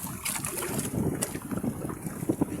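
Strong northeast monsoon wind gusts across the microphone outdoors, a continuous rough blustery rush that swells and dips over a few seconds, with no talking.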